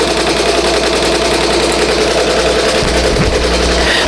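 An embroidery machine, a BAI Mirror 1501, stitches a sketch design onto a hooped T-shirt, giving a steady, rapid mechanical chatter that runs loud and continuous throughout, shifting slightly near the end.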